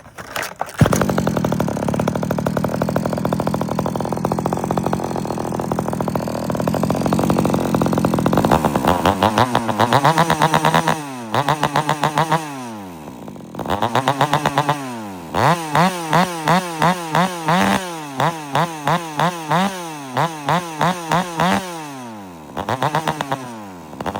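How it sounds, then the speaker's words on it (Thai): A 46 mm two-stroke grass trimmer engine fitted with a Walbro chainsaw carburetor starts and idles with a raspy buzz, then is blipped repeatedly in sharp, loud revving bursts that rise and fall in quick succession, close up and alone. "มาส่งงานเครื่อง 46 มิลชักหนึ่งคาบูเลื่อยครับ"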